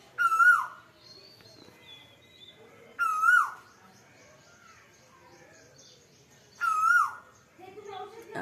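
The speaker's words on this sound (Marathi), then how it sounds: "आज कोकिळा खूपच बोंबलत आहे पण" Asian koel calling loudly outdoors after night rain, three clear rising whistled calls spaced a few seconds apart over quiet background.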